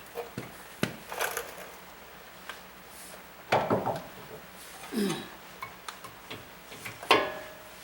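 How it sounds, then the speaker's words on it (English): A torque wrench clicks while tightening wheel hub bolts down to 31 pound-feet, giving several sharp, close metallic clicks spaced irregularly with quiet gaps between them. "I just torqued these down"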